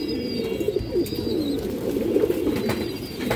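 A pair of Shapchila pigeons, an Indian high-flyer breed with a male and a female, coo softly and repeatedly up close in a steady, murmuring stream of low throaty calls.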